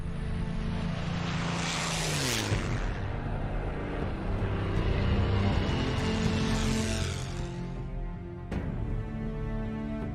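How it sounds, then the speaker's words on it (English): A WWII fighter plane's propeller engine roars loudly as it passes, the pitch dropping with a strong Doppler sweep, followed by a second approaching and receding pass. "the sound, if nothing else, from the outside of the airplane gets the air show spectators and anybody within earshot of the airplane"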